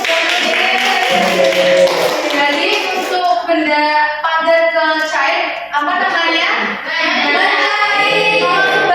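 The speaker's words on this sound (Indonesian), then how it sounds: "Oke, betul, tepuk tangan tuh" Elementary school pupils in a microteaching lesson on melting ice cubes give a rhythmic clap chant, bursts of clapping mixed with loud, sustained children's voices chanting together across the whole stretch.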